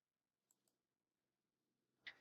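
A mouse click on the restore button of a document editor: after near silence, a faint tick and then a sharper click land right at the very end.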